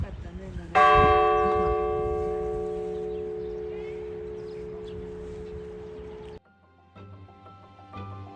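A loud church bell in Georgia rings at noon with a long, ringing tone that slowly decays, followed by a quieter second bell striking repeated notes.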